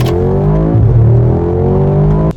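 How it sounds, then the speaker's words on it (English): A Mercedes G63 G Wagon's V8 roars loudly and close up as it revs on a road in Dubai, the pitch climbing, dipping briefly, then rising again in a sustained strained howl with no talking. "you're going to hear the V8 in this thing screaming at you"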